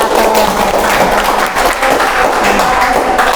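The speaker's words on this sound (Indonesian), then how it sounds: "Tepuk tangan untuk kelompok 1." Loud, dense clapping from a classroom of students applauding a presenting group, a steady burst of many hands close by with no pauses.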